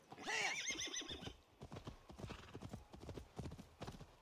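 A horse in Assassin's Creed Valhalla lets out a loud, wavering neigh, then its hooves clip-clop in a quick, steady trot with no voices.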